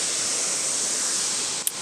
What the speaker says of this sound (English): Hey guys, you can see the waterfall.